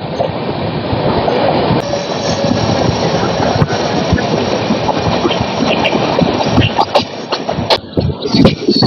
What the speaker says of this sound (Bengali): final departure Shalimar rail station